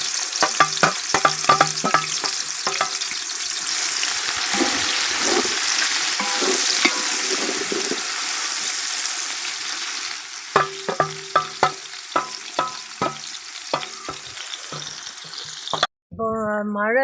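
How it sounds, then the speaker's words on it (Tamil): Onions fry in hot oil over an outdoor wood fire in a garden, a steady close sizzle broken by repeated rhythmic scraping and stirring strokes, with a short sharp noise at the end. "எண்ணெய் நல்லா சூடாயிடுச்சு நல்லா வெங்காயம் ப்ரௌனாக ஆகணும்"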